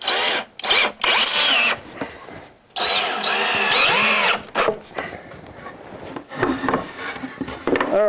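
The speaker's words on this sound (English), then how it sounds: "I'm going to come in and put some screws in here to hold that together." Power drill driving screws into a wooden mold template, several loud whirring bursts of a second or so each with short pauses between, then a few shorter, rougher pulses, all close by and with no talking.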